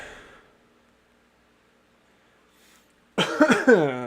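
A short, sharp cough at the start, then near silence, followed by a louder burst of harsh coughing close to the listener.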